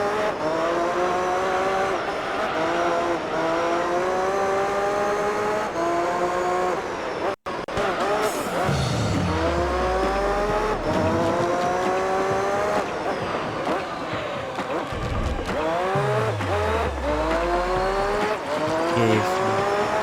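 A race car in Gran Turismo 3 runs at high revs with a loud, continuous engine whine that climbs through repeated gear changes, with tire squeal and a few downshifts, and brief voices can be heard underneath.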